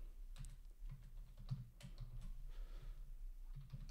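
Fingers type on a computer keyboard in quick, soft clicks. The tapping is faint and close, with brief irregular pauses and no talking.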